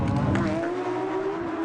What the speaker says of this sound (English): These cars fly down the back straight or Lakeshore Boulevard here at the street circuit at Exhibition Place